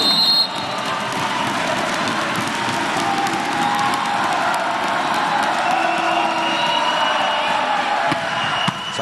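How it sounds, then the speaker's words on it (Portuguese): Cruzeiro supporters at a men's Superliga volleyball match against Minas Tênis create a loud, continuous roar of cheering and chanting that fills the gym. "A torcida do Cruzeiro faz barulho, hein?"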